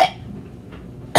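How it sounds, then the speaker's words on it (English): A single sharp cough opens and a second short cough follows at the end, close and fairly loud, with near silence between, part of a school skit about feeling sick. "Cough."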